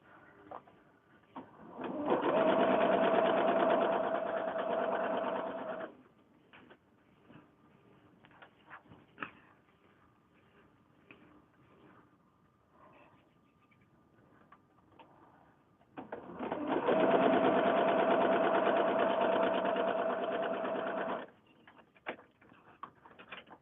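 Two bursts of a sewing machine stitching quilt pieces for a Japanese lotus flower block. Each run is a steady, fast mechanical whir of several seconds, close by, separated by a quiet stretch with small handling clicks.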